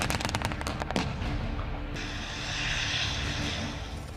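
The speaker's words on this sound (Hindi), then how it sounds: "आसमान से लड़ाकू विमानों की गर्जना पूरे इलाके को भयभीत कर रही है" Military fighter jets roar overhead during a Russian and Belarusian army drill near the Ukraine border, a loud sustained rumble following a burst of sharp crackling bangs, with the jet noise swelling and holding steady.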